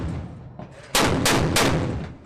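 Weapons training aboard a navy amphibious ship at sunrise, with three loud, close gunshots in quick succession, each a sharp crack with a booming tail, following a quieter lead-in.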